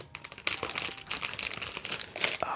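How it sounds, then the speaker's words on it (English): Crinkly plastic bag from a Lego set being torn open and handled up close, irregular loud crackling and rustling bursts over a couple of seconds, no talking. "let me open this bag really quick and get started on the building of this Lego set"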